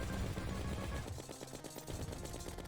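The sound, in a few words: Luminite bullets firing in Terraria (Elements Awoken mod), video game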